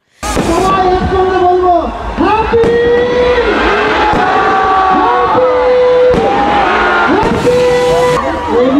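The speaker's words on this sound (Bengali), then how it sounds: "রাত্রি 12টা বাজার সঙ্গে সঙ্গে আতশবাজির মাধ্যমে নতুন বছরকে স্বাগত জানিয়েছে তমলুক শহরের মানুষ।" Midnight New Year fireworks over Tamluk town ring out as loud whistling rockets rising and falling one after another, layered over a noisy crowd and background talk.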